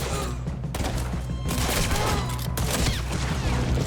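Gunfire rings out in Red Dead Redemption 2 as a dense, continuous fusillade of close, loud shots and thuds, with a few voices shouting underneath.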